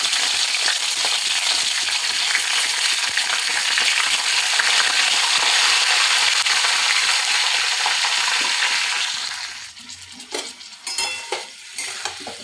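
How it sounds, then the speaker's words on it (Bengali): Bay leaves and panch phoron fry in hot oil for a traditional Bengali shukto, making a loud, steady close-up sizzle that later thins out as utensils clink and stir in the pan. "এবার কয়েকটা তেজপাতা দিয়ে দেবো তেলে। আস্তে আস্তে তেল গরম হবে, আর একটু পাঁচফোড়ন দেবো।"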